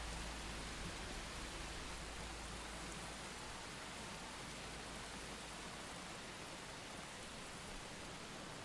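Steady, even hiss of rainfall in the open-world survival game Enshrouded, a broadband wash that holds at a constant level throughout with no voices or other distinct sounds over it.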